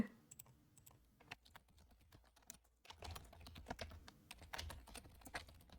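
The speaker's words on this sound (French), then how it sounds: "Vous devez entendre notre clavier du coup." Rapid clicking of a computer keyboard being typed on, steady bursts of keystrokes throughout, fairly quiet and close, with no voices.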